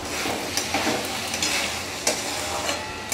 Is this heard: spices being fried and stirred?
yes